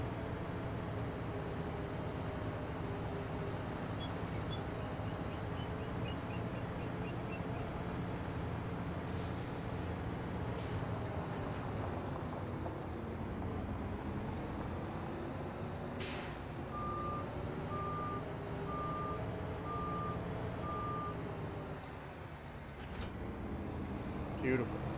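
A truck in a farming video game gives a hiss of air brakes, then steady reversing beeps repeat at an even pace over a low idling engine, with a voice talking throughout.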